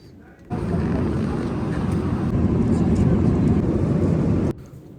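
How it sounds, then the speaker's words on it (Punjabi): A steady, loud broadband roar of a jet airliner cabin in flight at about 40,000 feet starts abruptly, holds for several seconds, then cuts off. "40000 ਫੁੱਟ ਦੀ ਉਚਾਈ ਤੇ ਜਾਂਦਾ ਜਹਾਜ਼"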